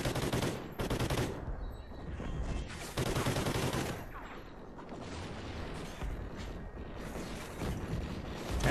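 Sustained rapid automatic gunfire in the video game Ghost Recon: Legends Never Die, loud and close, with a steady firing rate and a few short pauses, mechanical weapon clatter mixed in.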